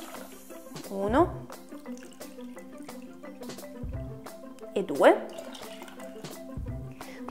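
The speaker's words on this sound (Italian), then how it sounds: "adesso aggiungiamo due volte il volume di acqua" Water is poured into a pot of quinoa, about twice its volume, in two short splashing bursts a few seconds apart. A voice talks quietly throughout, counting along.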